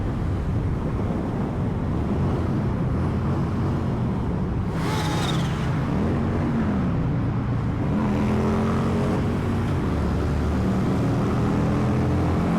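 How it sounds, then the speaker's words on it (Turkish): A Harley motorcycle engine revs on a highway, a steady loud drone with rising pitch sweeps, heavy wind rush throughout and no talk. "Harley gazlıyor."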